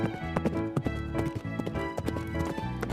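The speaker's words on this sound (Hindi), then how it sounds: "घोड़े के पीठ पर सवार होकर मधुमती आप पहुंचती है एक और गांव में।" A horse gallops in a rapid clip-clop of hooves, loud and close, as a story sound effect, with a bright rhythmic beat running throughout and no speech over it.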